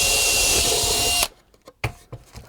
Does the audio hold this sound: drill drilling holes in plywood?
yes